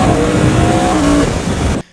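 Yamaha R1M superbike engine revving hard, a loud sustained high-pitched howl with shifting tones that cuts off abruptly near the end, leaving near silence.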